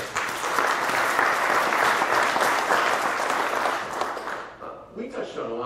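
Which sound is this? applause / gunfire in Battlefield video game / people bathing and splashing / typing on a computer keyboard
applause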